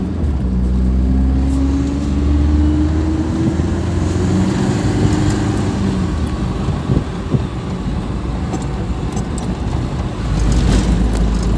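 The engine of a Tata Super Ace pickup with a low-pickup fault accelerates in second gear, a loud, steady drone with a rising tone and heavy wind and road rumble from inside the cab.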